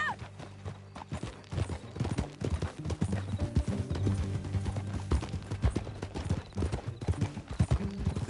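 Horse hooves clip-clopping in Red Dead Redemption 2 as riders set off together, a close, steady rhythmic beat of several hooves over a low background, with occasional faint talk.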